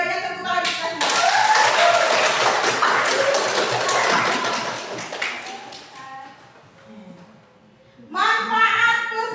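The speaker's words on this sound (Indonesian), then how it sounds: "Tepuk tangan kita semua." Classroom applause after a teacher's accounting lesson, a dense wash of many hands clapping that fades out, with voices talking over the tail.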